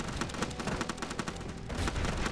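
Rapid machine gun fire from the mobile zombie game Dead Ahead: Zombie Warfare, a loud, dense stream of sharp repeated shots with no pauses, alone without talk.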